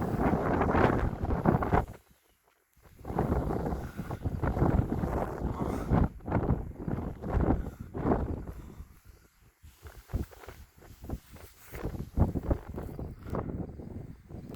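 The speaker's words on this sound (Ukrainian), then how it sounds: "Але вітер." Wind buffets the microphone in strong gusts at Castle Rock in Kansas, a loud broadband roar with a brief lull, and faint voices come and go underneath.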